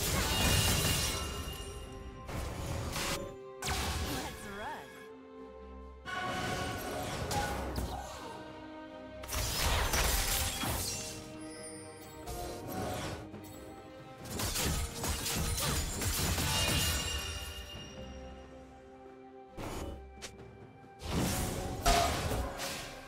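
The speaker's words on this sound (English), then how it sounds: "Red team's turret has been destroyed." Turrets being destroyed in a League of Legends match between Irelia and Aatrox produce repeated heavy crashing, crumbling impacts in bursts with brief gaps, mixed with game effects and announcer-style speech.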